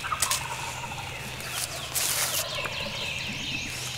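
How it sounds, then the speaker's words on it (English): Several wild turkeys gobble at daylight in an old hardwood bottom in Mississippi, rattling calls from varying distances over a steady background of other birdsong. "We have several turkeys gobbling at daylight"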